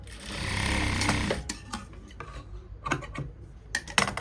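A sewing machine stitches along the side seam of a farshi salwar, running in a steady close rattle for over a second before breaking into short stop-start bursts and clicks.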